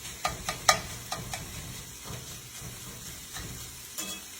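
Ribeye steak and vegetables cooking in a pan for cheesesteak sliders, with soft frying sizzle under repeated scraping and stirring clinks of a utensil against the pan, moderately close.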